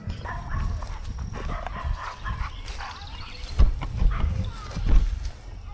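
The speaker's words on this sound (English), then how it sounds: "This dog's been trying to bite me." A dog barks in short bursts near the end, close by, amid the rustle and swish of someone cutting very tall grass with a scythe outdoors.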